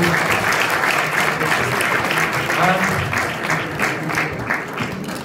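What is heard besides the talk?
applause in memory of Marvin Hagler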